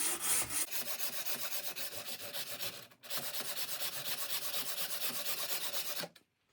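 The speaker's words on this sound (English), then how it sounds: "using smooth strokes and a hacksaw, I'm going to make a nice clean cut" A hacksaw cuts through a fiberglass driveway marker rod in steady, smooth rasping strokes, loud and close. One short pause comes near the middle, then the sawing resumes until it stops near the end.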